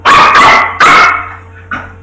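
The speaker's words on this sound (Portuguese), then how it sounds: "Que feio, para de latir." A pet dog barks loudly and close by, three quick sharp barks in a row followed by a softer, shorter yip, with no talk.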